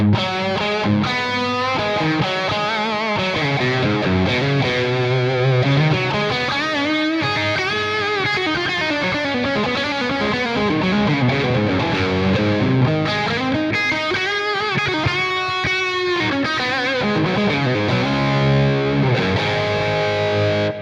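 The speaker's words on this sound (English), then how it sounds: "this high frequency fizz going on that they describe as digital fizz" Heavily distorted electric guitar through an amp modeler set to Diezel VH4 channel 3 plays a sustained, saturated lead line with a buzzy, fizzy high end, loud and continuous throughout.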